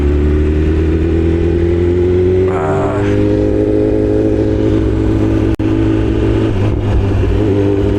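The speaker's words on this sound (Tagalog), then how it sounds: "Pag nagbitaw ka ng throttle, you know, backfiring." A BMW S1000RR motorcycle engine drones loud and close, its pitch rising and then easing off, with a sharp pop as the throttle is released and a second faint crackle soon after.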